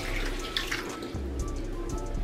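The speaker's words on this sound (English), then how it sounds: "I'm going to take this water and I'm going to put it in here." Water poured from a container into a cooking pot while making jollof rice, a steady close trickle and splash with small drips and clinks, no talking.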